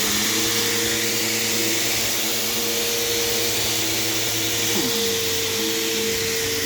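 Eureka Airspeed vacuum cleaner running steadily at close range, a loud continuous motor whine with a broadband rushing airflow, holding an even drone throughout with a slight shift in pitch near the end.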